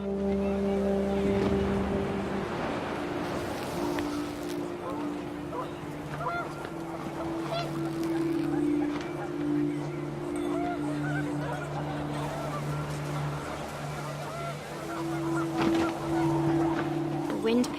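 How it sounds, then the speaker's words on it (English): Panicked geese in rising wind in the video game What Remains of Edith Finch, several honking calls over a loud continuous wind and surf-like roar with a sustained musical drone. "The wind picked up, and panicked geese appeared and quickly went."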